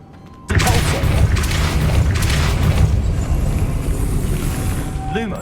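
Depulso spell cast in Hogwarts Legacy: a sudden loud magical blast that swells into a sustained roaring, rumbling burst lasting several seconds, with a faint tonal shimmer near the end.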